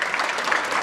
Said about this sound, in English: If you believe yourself, clap for yourself, please.